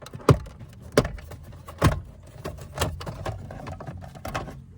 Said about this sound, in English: Now I think I need to pop this piece of trim off down here